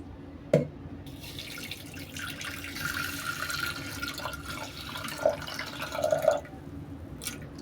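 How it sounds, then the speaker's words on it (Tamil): Water runs and trickles into a pressure cooker holding moong dal in a home kitchen, a soft steady pour with a few sharp drips and clinks scattered through, fairly quiet and without talk. "இப்போ தண்ணி ஊற்றிக்கலாம்."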